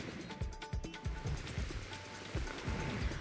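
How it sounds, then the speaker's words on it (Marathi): Rain in Mumbai patters steadily on a surface nearby, a dense continuous hiss with scattered heavier drops and low rumbling thuds. "मुंबईमध्ये पावसाला सुरुवात झाली आहे"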